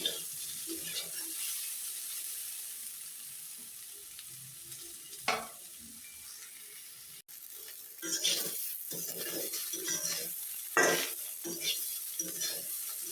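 Beans and onions fry in oil in a pan for shim bhaji, a steady close hiss of sizzling broken by stirring scrapes and clatters, with one brief dropout midway.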